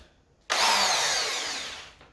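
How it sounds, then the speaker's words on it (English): A small power drill bores into wood, a sudden steady grinding hum that bites in loud and holds for about a second and a half before stopping. "I'm gonna do safe and start with the little drill."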